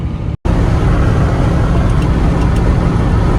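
A Holden HJ Ute's V8 engine drones loud and steady from inside the cab while cruising on the road, a continuous low rumble with road noise, after a brief dropout at the very start.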